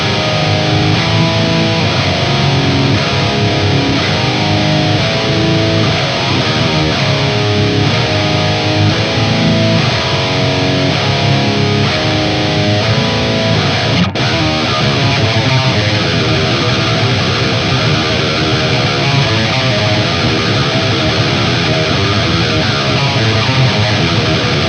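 A distorted electric guitar plays a dense, continuous rhythm part through an Axe-Fx solid-state rig. It is loud and upfront for the whole stretch, with chugging chords and no pauses.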